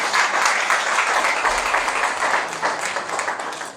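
A church congregation claps together during worship, a loud, close, continuous patter of many hands with no voices standing out.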